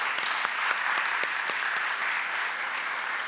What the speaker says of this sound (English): I want all of you sitting here to applaud those children who are here